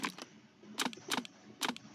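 Keystrokes on a computer keyboard in a horror puzzle game, a few short clicky bursts in small clusters with quiet gaps between, faint and near.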